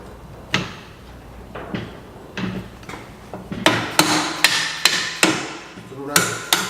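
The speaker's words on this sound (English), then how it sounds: "Love a dead blow hammer." Repeated dull strikes of a dead blow hammer on a Ford 9 inch rear axle torque arm bracket in a garage, about a dozen close, sharp knocks. They come slowly at first, then faster and harder.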